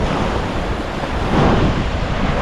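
Waves wash onto a seashore with a loud, continuous roar, mixed with heavy wind buffeting the microphone and swelling slightly partway through; no voices.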